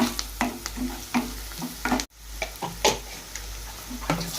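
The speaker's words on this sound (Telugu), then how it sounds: "వన్ టీ స్పూన్ పసుపు వేసుకోవాలి కలుపుకోవాలి" Chicken curry frying in a pan while turmeric is stirred in, with steady close sizzling and a series of sharp scraping strokes from the spoon against the pan.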